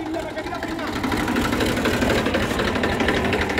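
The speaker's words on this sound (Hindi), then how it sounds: "ट्रैक्टर अगले खेत में उतर गया था, फिर हमें बैक करना पड़ा।" A tractor engine chugs steadily as it backs out of a neighbouring field, a close, continuous mechanical rumble with a rhythmic knock, while people talk over it.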